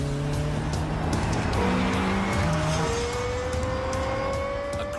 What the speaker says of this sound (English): Highest revving V10 engine in a production car.